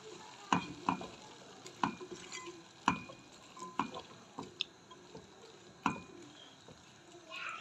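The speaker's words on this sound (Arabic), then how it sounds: "هنزل بقى هنا بالبصل، هنديله برضو تقليبه" Onions get stirred in a frying pan, a soft sizzle underneath repeated sharp clinks and scrapes of a utensil against the pan, fairly faint with some speech.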